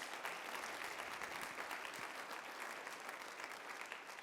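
Steady applause from a convocation audience, a dense even wash of clapping that stays constant and fairly distant throughout.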